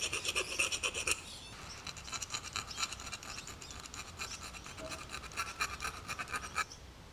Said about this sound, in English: I'll file them down and try and sharpen them the best I can.